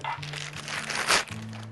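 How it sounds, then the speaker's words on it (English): Crinkly paper rustles and crackles as it is unwrapped, with sharp crumpling peaking near the end over a low steady hum. "Sorry about the crinkly paper."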